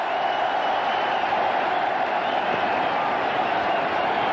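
A packed cricket stadium crowd at an India versus Australia one-day international in Indore, 2001, applauds Sachin Tendulkar's 10,000th run with a steady, unbroken roar of clapping and cheering that holds at full strength.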